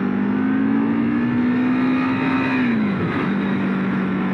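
An Aprilia Futura RST 1000 motorcycle engine revs loudly and steadily, its pitch rising slightly and then dropping off near the end, with no talk over it.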